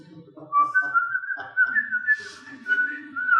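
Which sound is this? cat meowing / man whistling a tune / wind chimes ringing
man whistling a tune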